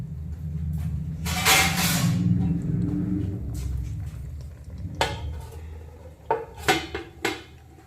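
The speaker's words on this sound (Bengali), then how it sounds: "আর কড়াইটাকে উপর থেকে ঢাকা চাপা দিয়ে দেব।" A metal lid clatters onto a wok of spicy dhaba-style mutton curry over a medium flame, with a loud rattle of metal on metal early on, then a low simmering rumble and several sharp clinks near the end.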